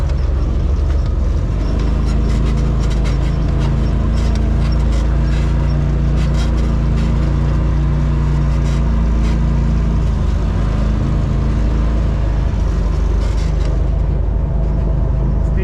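A Polaris RZR Pro XP side-by-side drives along a trail with a loud, steady engine drone and low rumble, small shifts in throttle and rattles over rough ground, with no talking.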